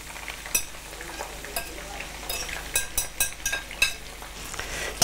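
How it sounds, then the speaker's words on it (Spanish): Food is sautéed in a pan for a Holy Week dish, with a steady sizzle broken by sharp scraping clinks of stirring, close and fairly loud with no talking. "Los vamos a sofreír."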